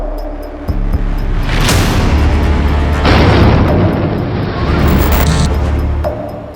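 Explosives blow up the giant Buddha statues at Bamiyan, Afghanistan, a loud, sustained booming roar with rolling blasts that stays heavy for several seconds before easing off.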